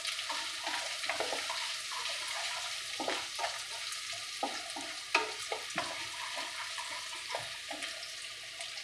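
Dried and green chillies fry in a little oil, giving a low sizzle under repeated scraping strokes of a spoon in the pan, moderately close and irregular.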